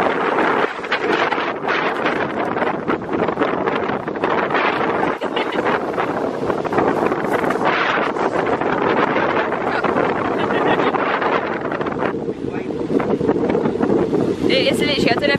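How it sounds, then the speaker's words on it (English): Strong wind buffets the microphone in a steady, loud roar throughout, on a windy holiday outing on the island of Rhodes. "I don't know if you can hear, but it's so windy."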